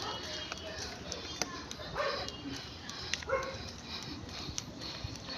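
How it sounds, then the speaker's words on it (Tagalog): Stray dogs on a road bark and yip a few times at a distance, faint and brief against steady outdoor background noise. "Marami kasing aso ng mga ligaw."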